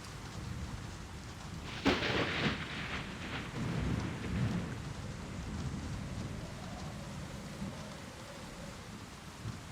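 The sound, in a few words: rain and thunder in Life Makeover video game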